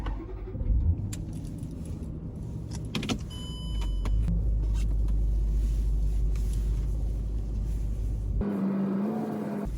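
A supercharged V8 Range Rover L322 drives slowly through British winter conditions, a steady low rumble in the cabin with a few clicks and a rattle early on, the tone changing near the end.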